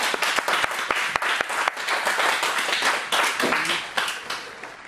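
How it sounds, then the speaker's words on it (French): A church congregation claps and cheers in acclamation of the Lord, a loud, dense burst of applause with sharp individual claps standing out and some voices mixed in throughout. "Acclame très fort le Seigneur"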